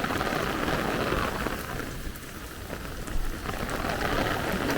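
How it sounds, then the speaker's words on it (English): Heavy rain pouring down during a thunderstorm squall line in Brooklyn, New York, a dense continuous hiss of downpour on surfaces with gusty swells, steady and loud throughout with no voices. "This should be totally heavy rain."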